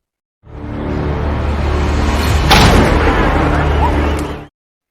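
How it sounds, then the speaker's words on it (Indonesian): A loud, sustained blast and rumble from a film gunshot scene, a bullet fired into a mouth, swelling in and then cutting off sharply after about four seconds. "Evonit pun tewas dengan cara menembakkan peluru ke dalam mulutnya"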